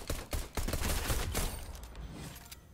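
Rapid bursts of video game gunfire crackle loudly and continuously, dense overlapping shots fading slightly toward the end, with no one talking over them.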